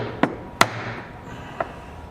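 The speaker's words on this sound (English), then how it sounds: "tap this with our soft mallet" A soft mallet taps a part on a Riccar 777 sewing machine bobbin winder, three dull close knocks within two seconds, the last one quieter.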